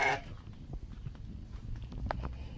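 Goats in a village make a short bleat at the start, followed by quieter shuffling and low background noise.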